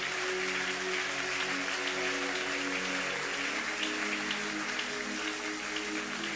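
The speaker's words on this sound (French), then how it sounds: "Applaudissons l'Éternel des armées." A church congregation claps continuously in a dense, even patter of applause, with a faint sustained musical tone beneath.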